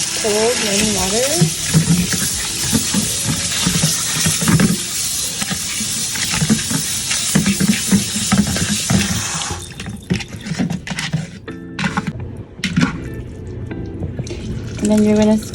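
Water runs steadily from a tap, splashing and gurgling with occasional clatter, while a voice speaks over it before the flow thins out near the end.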